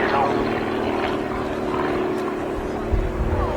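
RAF Grob Tutor propeller light aircraft performing a stall turn and slow roll at the Cosford airshow, its steady engine drone and propeller hum continuing throughout, moderately loud and slightly distant.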